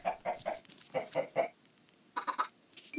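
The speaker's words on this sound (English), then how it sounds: "We got another baby chicken." A baby chicken in a video game gives a run of short clucking chirps in several quick bursts with brief pauses between, clear and fairly close in an otherwise quiet scene.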